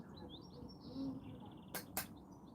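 Small birds chirp and tweet outdoors in the English countryside of Wiltshire, a steady scatter of bright calls at moderate distance, with a few sharp louder notes near the end.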